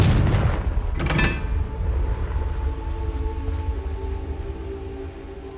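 The Confringo explosion spell from Hogwarts Legacy goes off as a loud, heavy boom with a second burst about a second later, then a long, low rumbling tail that slowly fades.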